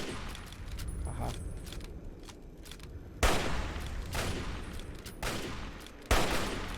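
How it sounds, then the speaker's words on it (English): Video game gunfire aimed at bottles: a dense crackle of shots with scattered impact sounds, and several louder bursts standing out, fairly quiet overall and without talk. "I'm shooting all this guy's bottles now."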